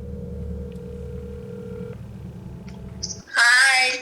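A phone call being placed: steady dialing and ringback tones sound first, then a voice answers loudly at the end as the call connects.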